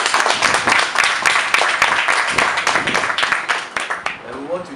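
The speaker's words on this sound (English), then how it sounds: "Please, let's give him a round of applause." An audience in Accra claps for a man celebrating his 90th birthday, a brisk, dense patter of many hands, close and steady for several seconds.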